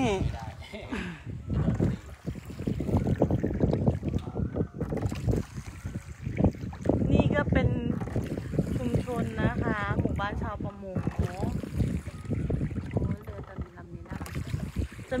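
Water rushes and slaps against a moving boat on an evening sea cruise alongside engine rumble and wind buffeting the microphone, while people talk over it throughout.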